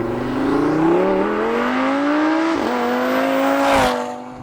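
A 600HP Audi RS3 engine pulling hard under acceleration, its loud droning tone climbing steadily in pitch, dipping briefly at a gear change, then rising again before easing off at the end.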